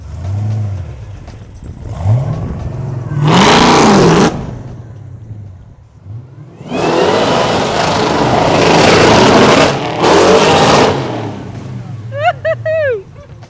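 A six-wheeled Ferrari F6 built by Gas Monkey revs hard and accelerates in loud, repeated bursts, the engine note rising and falling up close, with brief pauses between pulls and a squeal near the end.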